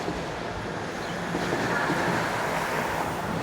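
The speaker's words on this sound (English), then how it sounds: "And there goes the northbound train." A northbound train in downtown Toronto rushes past with a broad, steady roar of rolling wheels that swells slightly as it goes by.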